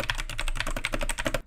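Quick, steady keystrokes clatter on a stock mechanical keyboard, close and fairly faint, with no voice over them.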